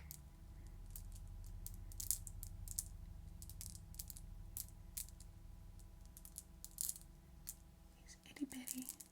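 Tiny toy slime eggs clack against a desk in a quiet room, producing many small, sharp, close taps in an irregular scatter, with a few louder clicks near the end and soft whispering under them.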